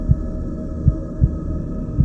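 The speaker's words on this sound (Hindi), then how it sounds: "मेरी दिल की धड़कन अचानक से बहुत ज्यादा तेज हो जाती है।" Racing heartbeat sound effect, four deep low thumps at a quick, slightly uneven pace over a steady hum, alone without talk.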